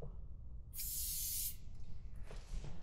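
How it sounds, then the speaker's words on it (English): A single sustained aerosol spray hisses onto the pistons of a 2019 Yamaha AR190 boat engine for nearly a second, close and bright, followed by quieter rustling and faint low background rumble. "I'm also going to give a quick spray to these pistons"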